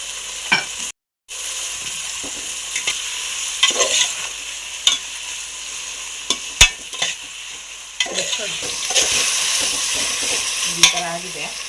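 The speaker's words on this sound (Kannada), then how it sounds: "ಇದು ಚೆನ್ನಾಗಿ ಫ್ರೈ ಆಗಬೇಕು." Tomato and masala for chicken biryani sizzle in a pan while a spoon stirs and scrapes, giving repeated sharp clinks over a constant frying hiss.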